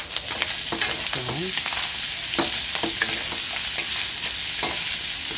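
Carrots stir-fried with pork and beans in a pan, a steady sizzle broken up by repeated scrapes and clacks of the spatula, near and fairly loud, with a single brief word spoken.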